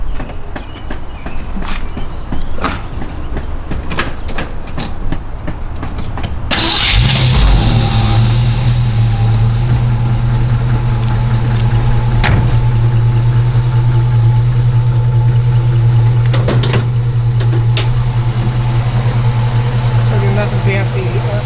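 A 1965 Ford Mustang convertible with a 289 V8 two-barrel engine and four-speed cranks and fires up, then settles into a steady, loud, close idle with a deep rumble, after a stretch of quieter background noise.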